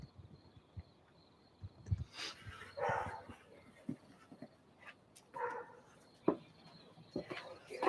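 A dog in a film barks and whimpers in scattered short bursts, fairly close, with quiet gaps between the yelps.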